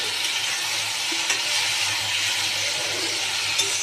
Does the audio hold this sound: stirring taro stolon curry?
yes